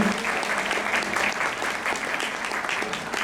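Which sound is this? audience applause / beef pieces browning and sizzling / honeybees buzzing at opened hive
audience applause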